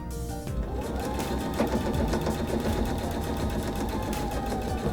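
Sewing machine running steadily while stitching a tote bag corner seam, a loud, close, continuous rapid rattle of the needle that starts just after a brief moment and continues without a break.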